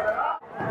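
Crowd gathered at a BJP rally for Yogi Adityanath at Ramleela Ground in Moradabad, a dense murmur of many voices with a brief dip before the chatter resumes.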